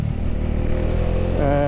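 Bajaj Dominar motorcycle ridden fast, a loud steady engine drone with a slight rise in revs near the end.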